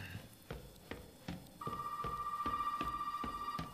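A telephone rings inside the survival horror game Resident Evil 7, a steady electronic ring that starts midway and holds on under repeated dull thuds, fairly close and loud.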